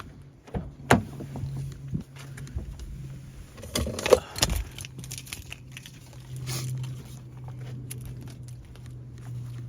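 Keys jangle briefly in short metallic bursts around a Volkswagen Tiguan 2.0 TDI. They are fairly faint over a low steady hum and a few door and handling clunks.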